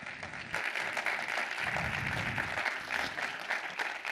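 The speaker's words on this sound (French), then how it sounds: "Je crois qu'on peut l'applaudir." Audience applause at an opening plenary conference session on finance and transition, a dense sustained clapping wash that swells after a brief start and holds steady for several seconds without talk.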